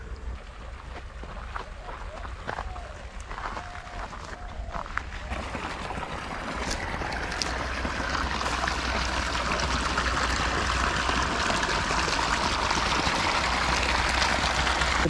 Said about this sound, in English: there's water from the pipes.